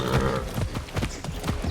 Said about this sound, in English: since when could you ride horses in Far Cry?